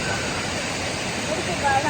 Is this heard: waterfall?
yes